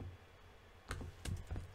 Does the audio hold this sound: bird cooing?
no